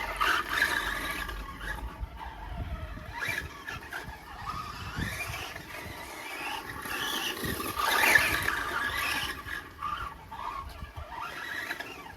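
A BXR radio-controlled car runs on a cold outdoor dirt track with a soft, ploughed turn, its electric motor whining and surging continuously, with a louder burst near the middle, and no talking.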